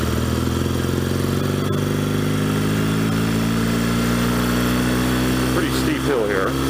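A 1964 Royal Enfield Interceptor Mk1 motorcycle engine drones steadily while being ridden, a loud, close, even mechanical hum that rises slightly in pitch toward the end.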